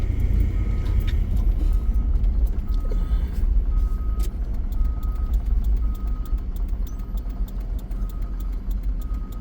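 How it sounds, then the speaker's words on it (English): A car's turn signal blinker ticks steadily in a regular rhythm while driving from the suburbs toward Denver, faint clicks sitting over a loud, constant rumble of engine and road noise. "And you can hear my blinker going because I always use my blinker."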